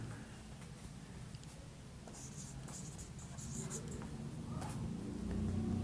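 A teacher writes steadily during an English grammar class, the pen or chalk scratching continuously at moderate volume over a low room hum, without speech.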